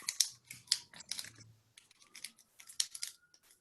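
Paper folded by hand into a Japanese chopstick rest makes close, crisp crinkles and sharp creasing snaps in irregular bursts, with short quiet gaps between folds.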